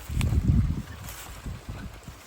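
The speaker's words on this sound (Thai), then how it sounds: "แรงเหมือนกันอันนี้" Strong morning wind buffeting the microphone in a four-year-old tree tunnel of planted yang trees in rural Isan, in uneven rough gusts, the heaviest at the start and weaker ones after.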